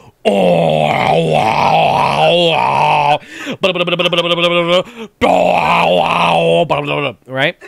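A man growls and roars in a harsh death metal style to mimic a blaring alarm, making loud guttural bursts with a short pause between them, then says a brief word at the end.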